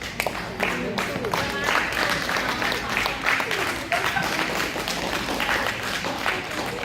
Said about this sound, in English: and let's give a round of applause.